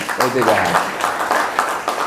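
Brief scattered clapping from an audience at a legal socialization meeting and swearing-in ceremony, fairly close and moderately loud, blending into a continuous patter.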